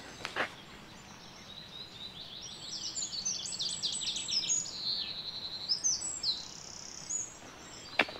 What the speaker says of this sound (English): But listen to the birds a minute